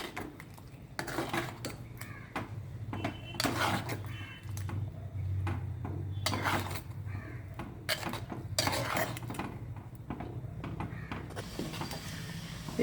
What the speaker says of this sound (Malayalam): ഇനി നന്നായിട്ടൊന്ന് ഇളക്കി യോജിപ്പിച്ച് ഒന്ന് തിളപ്പിച്ചെടുക്കാം.